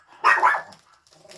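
Pet dogs indoors let out a short, sharp bark or two close to the microphone, followed by a faint, brief whimpering yip.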